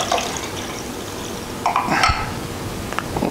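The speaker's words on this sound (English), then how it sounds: "I poured out about half the juice" Pickle juice poured from a jar of kosher dill pickles into a glass, a steady close splashing trickle with a few louder gurgles and glassy clinks partway through, no voices.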